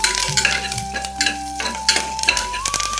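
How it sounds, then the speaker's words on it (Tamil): Cashews and curry leaves being stirred into ven pongal in a pan, loud close scraping and clinking of a spoon against metal over a light sizzle, in quick irregular strokes. "முந்திரி எல்லாம் சேர்த்தாச்சு இதை நல்லா ஒரு தடவை கலந்து விடலாம்"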